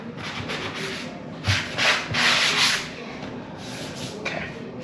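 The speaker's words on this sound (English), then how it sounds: "And then I just take a sanding sponge and just go over this real quick." A sanding sponge scrubs over dried drywall mud on a patched wall, quick back-and-forth rubbing strokes that swell into a louder, sustained burst in the middle before tapering to softer passes.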